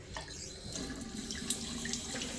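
Steady running water from a faucet splashing into a hotel bathroom sink with a waterfall-style spout, close and continuous with a few faint clicks, no voices.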